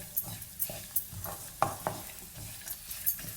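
A spoon stirs dates and nuts heating in a pan, giving a series of close, soft scraping strokes with faint sizzling between them.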